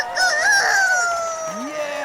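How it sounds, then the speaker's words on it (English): A rooster crows once, a long loud cock-a-doodle-doo with a rising then drawn-out call, close by, with faint background noise and no talk. "can't forget the rooster"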